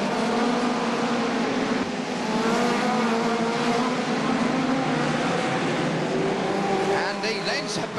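Hot rod race cars roar around the Wimbledon track, a continuous loud engine drone with shifting revs and passing cars, under steady commentator talk, with some tire squeal near the end.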